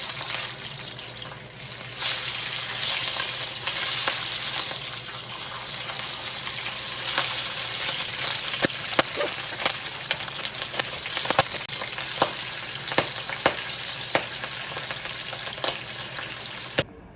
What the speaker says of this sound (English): here I wanna deep fry it